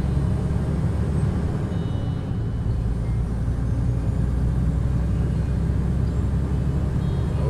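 A truck engine drones steadily while the truck drives along with its retarder in use, a constant low rumble with road noise that holds level throughout and has no talk over it.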